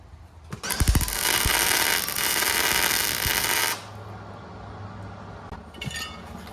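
Thin metal is arc welded outdoors in wind, with a loud, harsh, steady crackling buzz lasting about three seconds after a few sharp clicks, then cutting out to quiet background.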